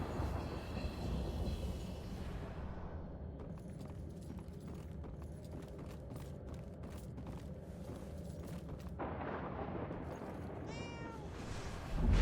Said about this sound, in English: I know I heard a cat somewhere around here.